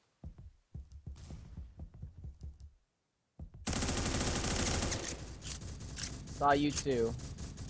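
M4A1 rifle fire in Phantom Forces: a few scattered single shots first, then a sustained, dense automatic burst, loud and close, with someone speaking over the firing.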